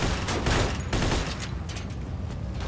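Automatic gunfire rattles in Mafia 2, with a loud, close burst of rapid shots followed by a dense, noisy tail, and no talk.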